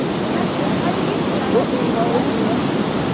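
A steady, loud roar of rushing water from a waterfall fills the whole clip without a break, heard from close by.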